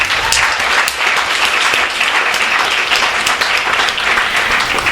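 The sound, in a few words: audience applause at a book event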